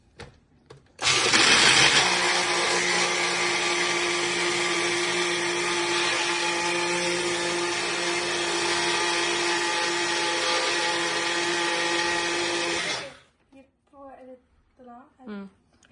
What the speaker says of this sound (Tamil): அப்புறம் ஜாகரி போட்டாச்சு. இப்போ நம்ம பிளெண்ட் பண்ணலாம்.